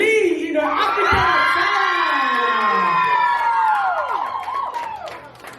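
A youth crowd cheers at a Samoan break-up party in Canberra, with loud, overlapping shouts and whoops rising together and holding for several seconds before tapering off.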